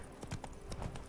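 Hooves of Roach, Geralt's horse in the video game Witcher 3, clip-clop in a steady walking rhythm, close and moderately loud, with about four distinct hoof falls.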